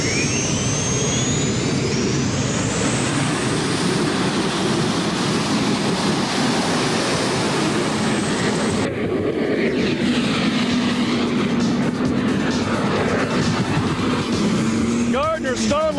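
A turbine-powered pulling tractor, the General Stage 4, roars down the track at a 1990 NTPA tractor pull in Pocono, Pennsylvania, its loud continuous jet whine filling the clip alongside crowd noise and announcer talk.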